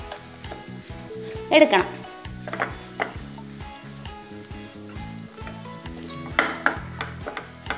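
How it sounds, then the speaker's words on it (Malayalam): Ingredients being stirred and mixed in a hot pan, with repeated spoon scrapes and clinks over a steady sizzle, close by, and a brief spoken word partway through. "ഇതെല്ലാം കൂടി നല്ലപോലെ മിക്സ് ചെയ്ത്"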